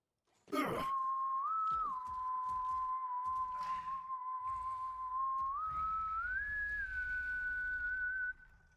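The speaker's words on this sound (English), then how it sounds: "Someone was whistling." A lone tune whistled in the video game Borderlands 3, a clear sustained melodic whistle holding long notes with a few pitch rises, fairly near and alone over faint background sounds.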